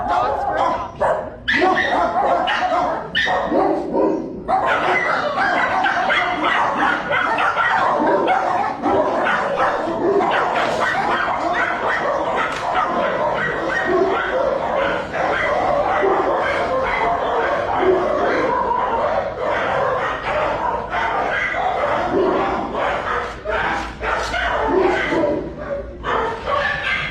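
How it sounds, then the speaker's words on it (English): Many dogs bark and yip nonstop at a pet adoption center, a dense, loud chorus of overlapping barks with occasional whimpers, echoing around the kennels, and some people speaking beneath the din. "These are our dogs for adoption."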